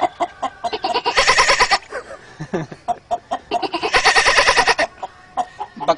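A voice mimics a goat, with choppy stuttering syllables building into two long, loud, wavering bleats, then trailing off into short bursts, all close and alone.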